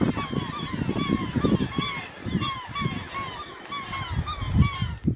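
Seabird colony on steep Arctic sea cliffs, a dense chorus of overlapping honking, cackling calls running continuously and fairly loud throughout, with a low rumble of wind or surf underneath.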